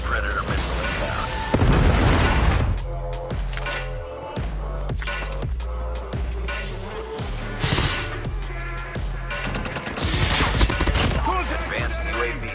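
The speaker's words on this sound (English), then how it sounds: "Friendly predator missile inbound." Predator missile strike in COD Mobile on the Monastery map: loud, booming explosions and dense gunfire crash repeatedly, with heavy low-end blasts over a continuous battle din.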